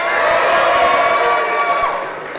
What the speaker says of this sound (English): I want to hear from all of our fall athletes in the room on 3. As loud as you can, give me a big cheer